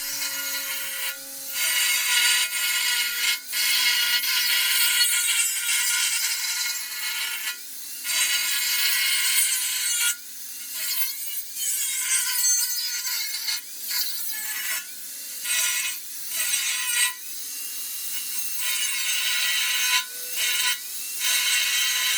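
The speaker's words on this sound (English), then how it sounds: "you can do wonders with an angle grinder. The angle grinder gets the job done." An angle grinder cuts off the ends of a workpiece in repeated harsh, abrasive bursts with short pauses between passes, loud and close, with a faint steady motor whine beneath.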